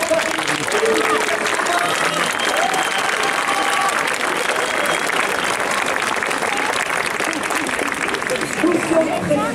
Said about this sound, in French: Je crois qu'on peut applaudir encore une fois très fort les équipes de